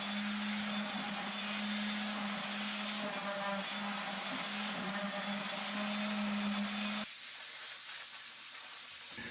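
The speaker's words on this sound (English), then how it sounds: "Next I took the orbital sander and went over each surface." An orbital sander runs over a wooden surface with a steady close whirring hum and hiss, then cuts off abruptly near the end, leaving a quieter background.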